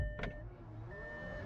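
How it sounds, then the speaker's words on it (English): The powered tailgate of an MG iM5 electric car whirs open from a cabin control, a short electric motor hum with a soft mechanical clunk at the start, fairly quiet and close, with no talk. "when you are inside the car, you can just open the boot like that"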